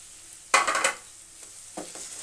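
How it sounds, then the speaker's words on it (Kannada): Onions roast in a pan with cardamom, cinnamon and cloves for chicken gravy, stirred in one loud scraping burst, then a quieter second stir over a faint background. "ಈರುಳ್ಳಿ ಇಷ್ಟು ರೋಸ್ಟ್ ಆದಮೇಲೆ ಟೊಮೊಟೊ ಹಾಕೊಳ್ಳೋದು."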